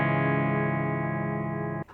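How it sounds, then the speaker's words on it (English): An electric guitar chord rings out through an amp's distortion channel, a loud, sustained, saturated tone held for nearly two seconds before cutting off abruptly. "And this is distortion."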